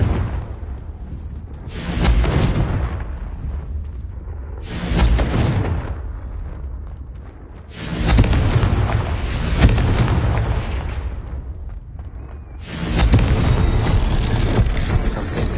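A Confringo explosion spell goes off repeatedly in the Hogwarts Legacy video game as four loud, booming blasts spaced a few seconds apart. Each blast has a deep rumbling tail, with no talk over them.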